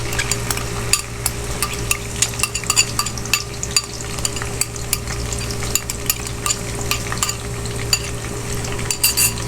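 Onions frying in oil in a pan for palak paneer, a steady sizzle under frequent scraping and clinking strokes of a spoon stirring against the pan, close and continuous.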